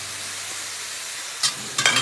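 Cooking juices hit a hot pan of mushrooms, giving a steady hiss that swells into two brief, louder sizzling bursts near the end.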